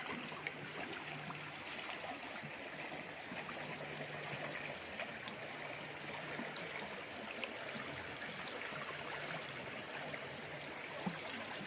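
River flowing behind a farm lot in Cavite, heard as a faint, steady background rush of water with soft trickling and no voices.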